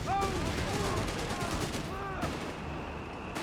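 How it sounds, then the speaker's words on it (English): Machine gun fire in Company of Heroes 3, German forces firing on British troops, dense rattling bursts that run through the clip over the noise of battle. "machine guns there, laying down a fierce wall of lead here against the British forces"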